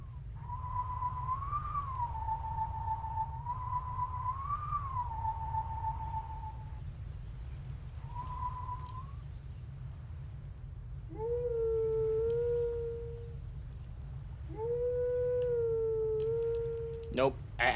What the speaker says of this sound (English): It's another Howling Stone.